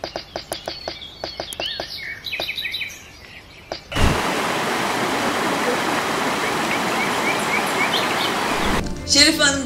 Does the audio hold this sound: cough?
no